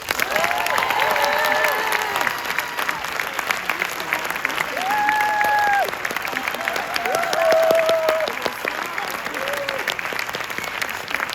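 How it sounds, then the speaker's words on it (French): Sustained applause from an audience filling a cinema hall at a film premiere, steady and dense for the whole stretch, with whistles and cheers rising above the clapping. "Je vous demande de faire un tonnerre d'applaudissements pour Alexandra Lamy"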